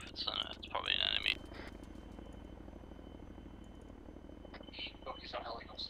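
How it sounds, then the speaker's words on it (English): Helicopter rotor drone in an ArmA 3 multiplayer battle, a faint steady rhythmic thrum running throughout beneath brief bursts of radio-style chatter and game sounds. "Oh, he's on helicopter."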